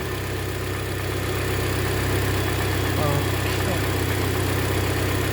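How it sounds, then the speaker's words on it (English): A 2015 Hyundai Elantra engine idling steadily, a constant low rumble and hum with no change in pace throughout. "with the motor running"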